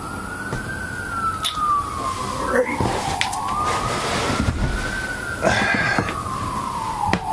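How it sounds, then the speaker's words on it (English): A wavering siren rises and falls steadily in the distance, with wind gusting and rustling through trees around it. "Seems like you can probably hear all the sirens and the wind blowing through my trees"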